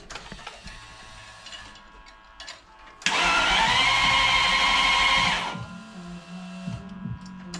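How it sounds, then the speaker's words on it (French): A V12 bi-turbo engine in a Traction, started for the first time with the key: a loud mechanical whir of cranking for about two seconds that then drops away, with clicks and handling noises before and after. "Et si on éteignait les Premier démarrage à la clé."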